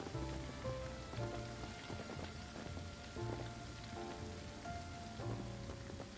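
Rain pours steadily in the Embr firefighter video game, a dense, even hiss that lasts the whole stretch, with soft tonal game sounds layered underneath and no speech.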